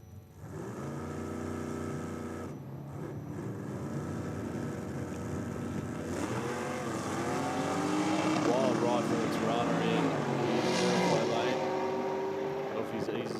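A no-prep drag racing car on small tyres makes its first pass down an Australian track, a loud sustained engine roar rising in pitch as it accelerates, with commentary over it.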